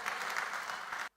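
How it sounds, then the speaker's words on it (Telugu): A church congregation claps together in praise of God, a dense, loud burst of applause lasting about a second before cutting off abruptly. "చప్పట్లు కొట్టి దేవుని స్తుతిద్దాం."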